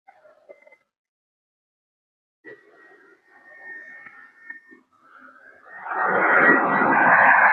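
A jet airliner lands at Alicante airport at night, its engine roar swelling from faint to a loud, broad rush over the last few seconds after quieter intermittent tones.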